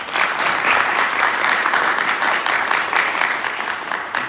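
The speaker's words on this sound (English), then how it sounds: "If you could see them, a round of applause" Loud, dense applause from a summit audience, many hands clapping continuously at an even level from start to finish.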